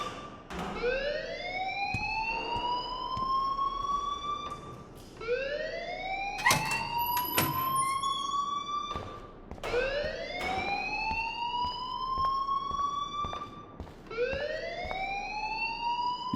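Alarm in the video game Life is Strange: a wailing electronic siren that sweeps upward in repeated rising whoops, about four cycles with brief gaps, fairly loud and alone, with a few sharp clatters between.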